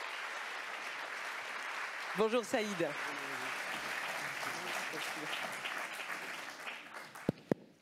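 Audience applause greeting Saïd Hamouche, president of the Fondation Mosaïque, at the opening of an economic inclusion summit, steady clapping throughout with a voice speaking over it partway and a couple of sharp knocks near the end.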